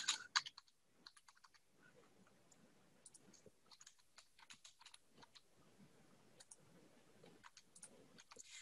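Numbers being typed on a laptop keyboard during a graphing calculator lesson, a run of light, quick plastic key clicks in an irregular rhythm, close and fairly quiet with no voice over them.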